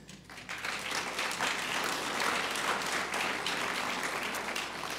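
Audience applause at a city mayor's State of the City address, a dense sustained wash of many hands clapping that rises quickly and holds steady for the full stretch.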